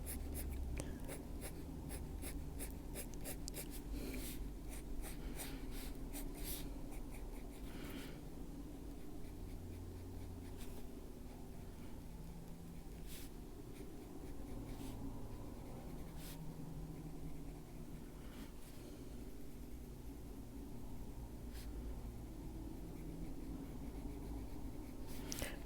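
Pencil drawing on paper for a fantasy autumn forest witch illustration, a continuous close scratching and shading texture with quick repeated strokes early on, steady and moderately loud with no voice.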